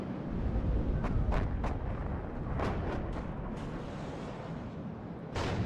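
Artillery fire in the Cold War strategy video game WARNO, a low continuous rumble of distant shelling with several sharp bursts early on and another near the end, moderately loud and with no voices.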